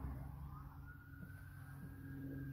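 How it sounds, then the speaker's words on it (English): A police car siren passes at a distance, a faint, steady wail under low traffic rumble with no speech. "there's a cop car going by."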